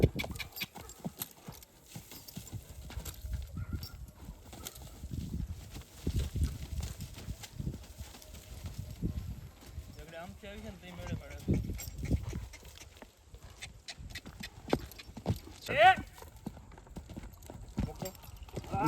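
A horse's hooves clip-clop on hard ground at a farm with buffaloes nearby, uneven steps through most of the stretch while people talk close by.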